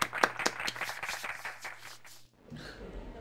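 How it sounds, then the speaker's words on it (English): Applause in the Freddi Fish 3 video game, a short burst of light cartoonish clapping with quick sharp claps that fades out after about two seconds. "Give it up, folks! Let's hear some applause!"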